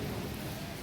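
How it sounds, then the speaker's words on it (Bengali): A sudden downpour of heavy rain roars steadily and densely, filling the brief moment with an unbroken close wash of noise and no voices. "হঠাৎ করেই বৃষ্টি এসে গেছে একদম।"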